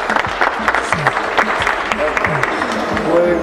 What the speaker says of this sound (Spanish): Un aplauso para su tío.